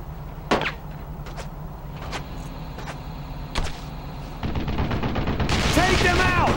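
Machine gun fire and battle sounds in the World War II video game Brothers in Arms: Road to Hill 30. Several sharp, loud shots stand out against a steady rumble, and the fire grows into a denser, continuous clatter toward the end.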